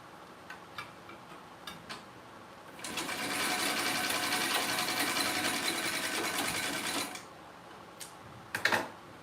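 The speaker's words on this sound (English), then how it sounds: "So I'm almost done overlocking all of this." An overlocker serges trouser seams in one continuous fast whirring burst of about four seconds, framed by scattered clicks and handling taps before and after, with a brief louder rustle near the end.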